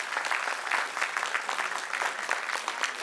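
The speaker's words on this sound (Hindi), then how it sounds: "जोरदार तालियां हो जाए प्लीज।" Loud audience applause at a preschool event's evening felicitation ceremony, dense steady clapping from a crowd throughout, with no voices over it.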